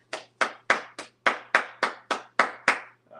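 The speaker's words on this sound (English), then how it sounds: "Clap it up." A church congregation claps in unison, ten sharp, evenly spaced claps at a brisk steady beat, close and clear in an otherwise quiet room.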